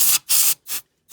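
Compressed air blasts into the hook assembly of an APQS longarm quilting machine during cleaning: three sharp, loud hissing bursts in quick succession, then a fourth starting, with brief silences between.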